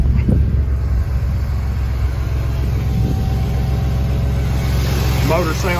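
Engine of a 1947 Studebaker M5 truck idling steadily nearby with a low, even rumble, while a person talks over it.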